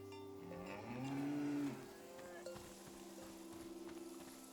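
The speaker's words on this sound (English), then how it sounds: "You are a cow and you are named Krasnahorka." A cow in a Czech village gives one long, deep moo that rises and falls over about a second and a half, close and clear, followed by quieter farmyard ambience with faint background sounds.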